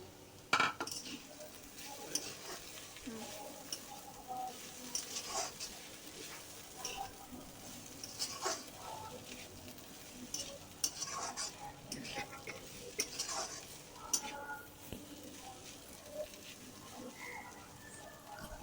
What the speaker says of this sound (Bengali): দিয়ে ভালোভাবে করলা আলু সব কিছু কষিয়ে নেব